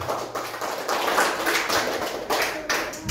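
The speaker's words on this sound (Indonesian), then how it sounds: "Tepuk tangan." Classroom quiz group clapping together after an answer is revealed, a short close burst of hand claps with a few rhythmic accents.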